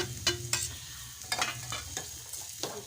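A spatula stirs a horse gram flour mixture in a pan on a low flame, making soft scraping strokes over a faint, steady sizzle. The sound is quiet and close, with an irregular rhythm of about eight strokes.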